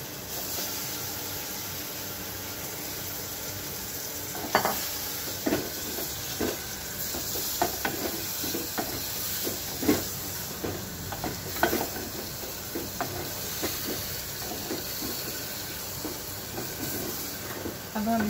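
Mutton pieces sizzle in melted fat for a mutton masala handi, a steady hiss broken by scattered clicks and scraping stirs, close and moderately loud, with no talking.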